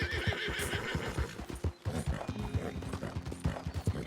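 A horse in the Red Dead Redemption 2 video game neighs and whinnies while its hooves clip-clop in a steady rhythmic trot, close and loud with game sound behind it.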